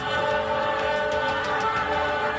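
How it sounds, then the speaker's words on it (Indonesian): Cikuray passenger train travelling from Jakarta toward Garut rushes through a level crossing at top speed, a loud steady roar of rail noise with a sustained horn tone running through it. "kereta api Cikuray dari arah Jakarta menuju Garut melintas dengan kecepatan maksimal"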